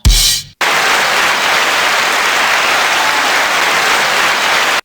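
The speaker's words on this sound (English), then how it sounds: "that's a good hand clap" An audience breaks into loud, sustained applause and hand clapping, a dense wash of many hands that continues evenly after a short burst of noise at the start.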